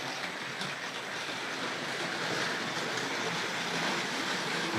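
A Tri-ang Hornby model train rumbles steadily along the layout as it runs into the station, a continuous close rolling clatter with no voices.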